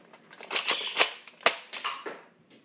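A light one-handed gun fired several times in quick, uneven succession, producing loud, sharp cracking reports close by, with a short pause before a final burst.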